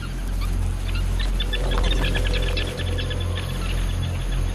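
Geese honk and other birds call in the wild, a continuous flock of overlapping calls over a steady, loud background rumble.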